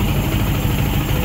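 A Yamaha Sniper 150 motorcycle engine runs after a top overhaul, a loud, steady close-up idle rumble with no break.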